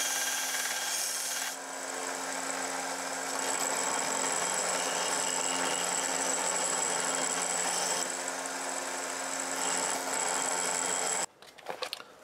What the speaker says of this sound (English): So what I'll do now, I'll take it to my little belt sander and refine it and get rid of these big scratches.